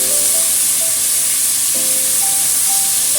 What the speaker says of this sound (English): Stir fry everything to mix everything well.